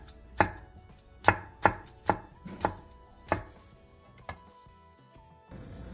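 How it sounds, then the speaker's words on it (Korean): A single Cheongyang chili pepper sliced thinly on a cutting board, about eight crisp, evenly spaced knife chops ringing close and clear in a quiet kitchen. "청양고추 한 개를 얇게 쫑쫑 썰어 주세요."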